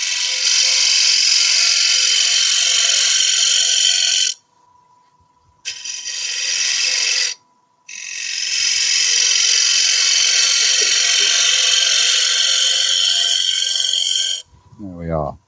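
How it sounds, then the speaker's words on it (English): A quarter-inch bowl gouge cuts into wood spinning on a lathe at a woodturning demonstration in a store. It makes a loud, steady hissing shear in long passes, with two short breaks, and a brief voice near the end. "I'm going to use a smaller bowl gouge, a little quarter inch."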